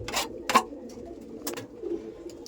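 Pigeons inside a clean pigeon house give soft, low cooing calls, several short coos rising and fading close by, with a few brief sharper sounds between them.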